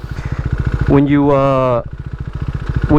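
A KTM RC 390 single-cylinder engine idles in neutral with a steady, pulsing thump, briefly rising as someone speaks over it, then settling back to the same rhythmic idle.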